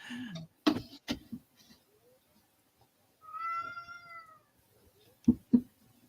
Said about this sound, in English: These cats sound completely reasonable and receptive to gently picking them both up and having a hug fest.